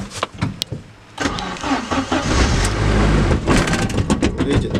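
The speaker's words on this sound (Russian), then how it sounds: "Кстати, давайте заведу, как он работает." A UAZ fitted with a gas conversion cranks over with a few sharp clicks, catches, then settles into a loud, rough, rumbling idle close by.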